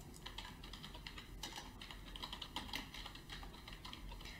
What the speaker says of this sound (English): I type in